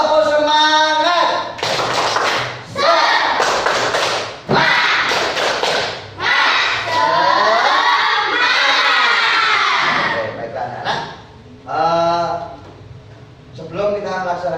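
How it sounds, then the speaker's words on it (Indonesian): Indonesian schoolchildren in a classroom perform a rhythmic clapping chant, loud bursts of claps alternating with shouted sung phrases in unison, close and energetic over about fifteen seconds. "Tepuk semangat."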